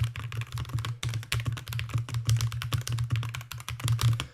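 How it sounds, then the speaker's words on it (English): Steady typing on a computer keyboard with a microphone placed behind it: rapid, irregular clicks and clacks in bursts, fairly close and clear over a low constant hum, with no talking. "I want to do a quick keyboard test. Say if I'm typing, just put the microphone behind it right now"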